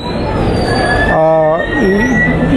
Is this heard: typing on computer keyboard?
no